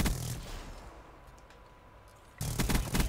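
Gunfire in the video game Black Ops 3: a burst of loud shots at the start, a quieter lull, then a renewed rapid volley near the end.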